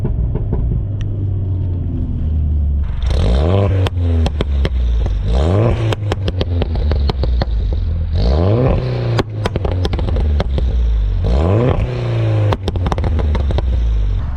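A 2013 MINI John Cooper Works GP engine revs hard through repeated accelerations, each rising pull ending in sharp pops and crackles from the exhaust, loud and close with no talk.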